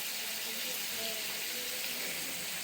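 Water pours steadily into a pan of crab curry, a continuous hissing splash close by that rises faintly above soft sizzling.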